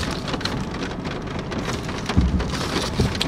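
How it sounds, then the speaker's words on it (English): Steady rain patters and hisses throughout, with a few heavier drops or low rumbles standing out near the end. "And it's raining."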